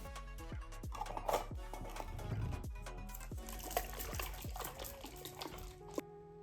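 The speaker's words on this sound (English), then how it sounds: "combine all the dressing ingredients in your mason jar, cover it with the lid, and then shake" Salad dressing sloshes and knocks inside a lidded mason jar being shaken by hand, a run of uneven wet splashes and dull thumps, close and fairly quiet, with no talk.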